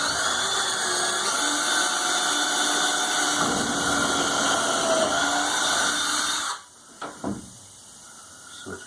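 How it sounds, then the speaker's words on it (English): A handheld drill whirs steadily and loudly as it bores a hole in the corner of an upcycled fence panel during bus reconstruction work. It runs for about six seconds, stops abruptly, and a few short clunks follow. "Drill a hole right in the corner."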